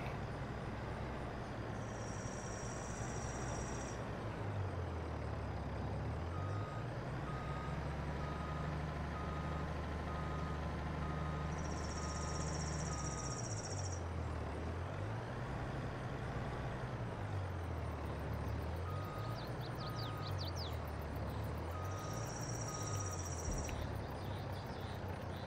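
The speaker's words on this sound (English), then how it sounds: "We'll dump the whole trailer." Heavy farm machinery in Farming Simulator 22 dumps a full trailer load while reversing beeps sound in repeated bursts over a steady, droning engine rumble that rises and falls, with no talk.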